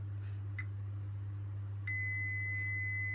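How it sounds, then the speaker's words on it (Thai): A multimeter gives a continuity beep while a diode is tested, with a couple of faint short chirps first and then a steady, clean sustained tone over low hum. "เราก็เห็นว่ามิเตอร์โชว์เสียงปี๊บตลอดนะครับ"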